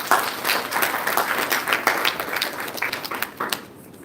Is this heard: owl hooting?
no